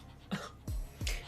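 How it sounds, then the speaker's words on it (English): A person coughs a few times in quick succession, short, fairly quiet and close bursts. "no, I swear, it's just a normal cough"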